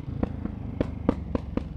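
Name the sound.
Ducati motorcycle exhaust popping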